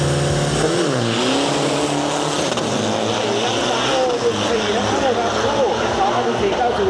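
Isuzu 1.9 liter turbo diesel drag trucks roar down the strip at Bangkok Drag Avenue, loud engines revving and shifting through rising and falling tones while a voice talks over the racing.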